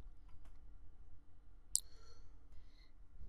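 A single sharp mouse click on an invite button on a webpage, crisp and close against a faint quiet background, with a soft chime-like tone trailing briefly after it.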